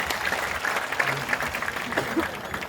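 An audience at a Hindi comic poetry gathering claps for a birthday greeting, a continuous blur of applause with faint voices and murmurs mixed in underneath.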